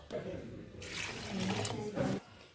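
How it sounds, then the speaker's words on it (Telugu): Water poured into a bowl of washed lentils in a home kitchen, a short splashing pour that swells then cuts off, with a person talking over it. "దీంట్లో రెండు కప్పుల వాటర్ని యాడ్ చేసుకోవాలి"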